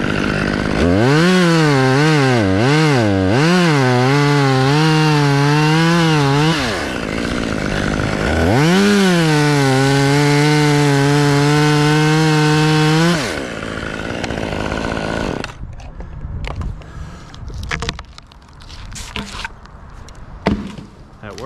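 A chainsaw roars loudly and close while making a brake cut during the felling of a white pine, its engine pitch rising and dropping as it works, then cutting off, leaving quieter woodland sounds and small knocks.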